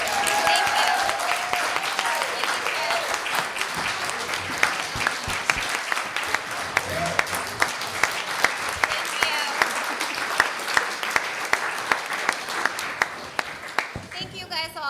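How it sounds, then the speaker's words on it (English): Audience at a town meeting applauding, a sustained crowd of clapping hands with individual sharp claps standing out, a voice heard over it early on, fading at the end. "So maybe a round of applause for Liz."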